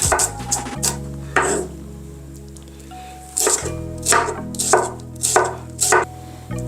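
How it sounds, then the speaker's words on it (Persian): A knife julienning onions into thin strips on a cutting board, with bursts of quick, crisp chops separated by pauses, close and clear over a steady low background hum. "خب من میرم سراغ خلال خورد کردن پیاز هام"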